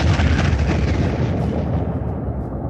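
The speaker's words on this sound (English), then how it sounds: "We got some explosion sound effects ready." A dense, roaring explosion effect fills the clip, a loud continuous rumble of blasts and debris with heavy low-end weight that slowly thins toward the end, with no voices over it.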